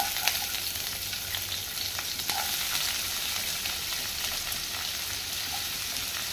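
Chopped onion frying in hot oil in a pan, giving a steady, close sizzling hiss that runs unbroken throughout with no talking.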